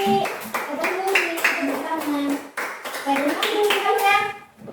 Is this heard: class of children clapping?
yes